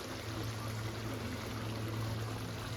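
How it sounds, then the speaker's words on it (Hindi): Boiled lentils (dal) being poured into a pot of layered egg and potato biryani, a steady, close liquid pour and trickle running throughout, with a low constant hum beneath and no talking. "तो ये मैं दाल डाल रही हूँ, इसमें सारी मैं नहीं डालूँगी।"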